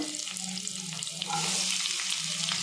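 Three chopped onions frying in hot coconut oil give a steady, crackling sizzle close by, growing slightly louder partway through.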